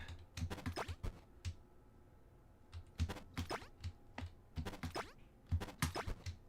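Computer keyboard keys clack in quick clustered bursts with short pauses between, close and crisp, while someone plays HoloCure on the keyboard.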